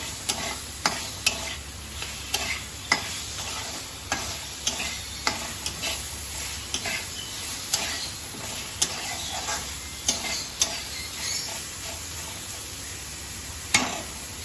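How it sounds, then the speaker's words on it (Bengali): Potatoes are sautéed in sizzling oil for a Bengali prawn curry, with a spatula scraping the pan in regular, rhythmic strokes roughly every second over a low, constant fry. "এবারে আলুগুলোকে একটুখানি কষাবো, কষিয়ে আমি জল দেবো।"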